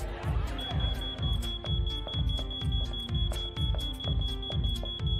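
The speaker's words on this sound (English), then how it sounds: "Someone shut down that damn alarm." A fire alarm in the video game Thief of Thieves rings in a fast repeating pattern of loud electronic pulses with a steady high tone over it, sounding continuously throughout.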